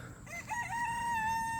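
A rooster crows in one long, sustained call on a farm, loud and close, with faint background clucking from chickens.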